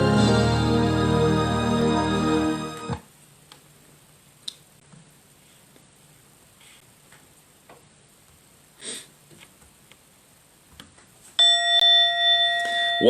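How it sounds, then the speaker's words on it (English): A meditation bell rings loudly at the start and its ringing tone fades out, followed by near silence with faint clicks, then a second bright bell strike near the end that rings on. "And let me get a good bell here."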